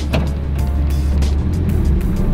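A 2004 Suzuki Katana/Jimny on 245/70/16 tires cruises along, a steady loud engine and road drone heard from inside with brief hisses and rattles over the continuous hum.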